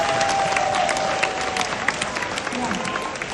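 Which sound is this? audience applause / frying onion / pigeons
audience applause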